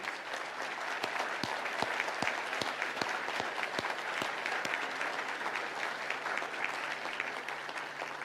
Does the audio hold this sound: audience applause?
yes